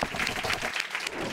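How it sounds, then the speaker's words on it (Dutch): An audience at a Dutch talk on citizen participation bursts into dense, steady applause, a short burst of many hands clapping at once. "Geef hem een groot applaus."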